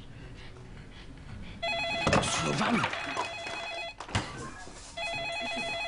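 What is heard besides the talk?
telephone ringing unanswered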